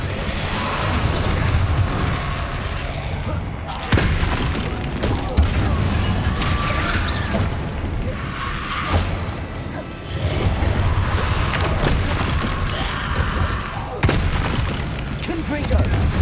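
Incendio spell blasts in Hogwarts Legacy on PS5, a series of loud booming fiery bursts every few seconds with whooshing tails, under a dense layer of ongoing combat noise.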